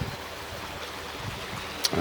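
Tippett's Brook, a small stream near Luntley in North Herefordshire swollen after a wet spell, flows with a steady broadband rush of water close by, alone and unbroken for the whole stretch.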